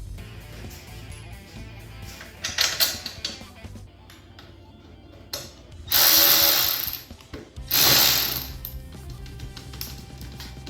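Nuts are spun by hand onto bolts fed through a Harley-Davidson Sportster frame during a hardtail install. Close metallic whirring and rattling bursts, two of them loud and sustained, are separated by quieter clicks and handling noise.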